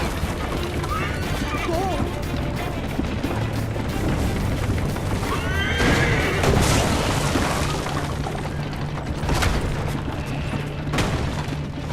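A horse whinnies amid chaotic action in the video game Assassin's Creed III: Liberation, with booms, crashes and shouting voices layered over a loud, busy game soundscape.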